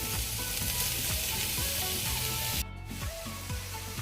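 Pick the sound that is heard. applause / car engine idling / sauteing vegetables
sauteing vegetables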